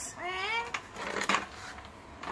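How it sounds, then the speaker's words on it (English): A single rising, drawn-out meow up close from a mother cat at a wet market, followed by faint clattering and handling noises in the background. "We're rescuing a cat with the babies in the wet market."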